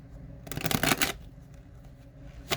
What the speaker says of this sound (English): I'm going to be shuffling over here.